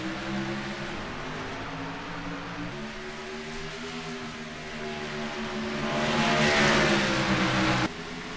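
Race cars in an ISCR National Classic Series racing game at Nashville roar back up to speed at a green-flag restart, several engines droning and rising together in a steady, loud pack, swelling louder near the end before a sudden cut.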